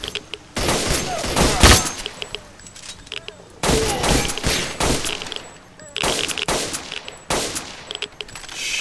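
Gunfire in the video game S.T.A.L.K.E.R. Call of Pripyat (Misery mod), with loud bursts of rapid shots in several volleys and short gaps between them, and someone talking over them.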